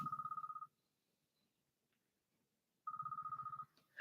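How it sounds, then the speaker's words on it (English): A phone rings in a repeating electronic trill, one burst, a long pause, then a second burst, fairly quiet and alone with no talk. "My phone's ringing."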